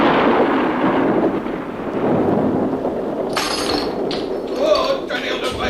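Thunderclap sound effect from a radio drama: a loud, sustained rumbling roar, followed by sharp glassy clinks and cracks as window panes break.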